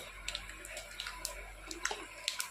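Mustard seeds hit hot ghee and crackle, scattering sharp little pops and spits over a soft, low hiss.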